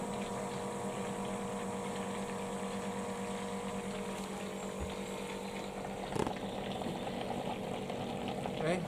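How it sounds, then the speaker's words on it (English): A pump transfers homebrew brewing water into a mash tun, giving a steady low motorized hum with a light watery churn and one brief knock partway through. The sound is fairly quiet and no one speaks. "Turn the pump on."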